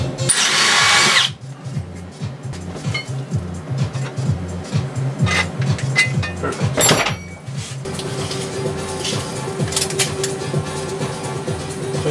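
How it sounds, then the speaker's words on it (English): A power drill runs loud and close, its motor whining and bogging as it bores a hole while fitting a front motor and brake disc to a Razor E300 electric scooter, with brief clunks and a short pause midway. "Let's just drill one of them out to the right size hole first."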